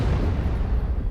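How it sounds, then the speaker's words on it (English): A loud, close explosion in the video game No More Room In Hell 2, a dense, deep boom that fills the whole moment and stays heavy throughout. "Anyways, watch this explosion."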